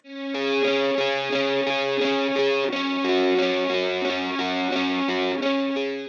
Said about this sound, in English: So this is the guitar riff that I came up with.